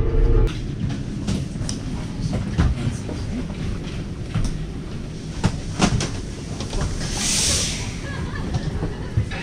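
A Swiss passenger train runs from Lucerne to Interlaken, heard from inside as a steady rolling rumble with scattered clicks and knocks from the wheels and carriage for the whole stretch.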